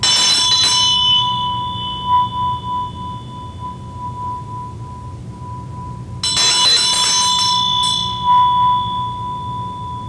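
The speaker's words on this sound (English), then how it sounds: "a bell and a dorji" A small hand bell used in sound vibration practice is struck twice, each time a bright metallic ring with a long sustained tone that decays slowly, with a low hum in the background.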